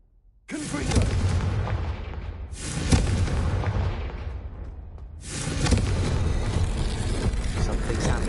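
A Confringo fire spell in Hogwarts Legacy detonates in repeated heavy booms, three big blasts each rolling into a long rumbling tail, loud and close with no talk over them.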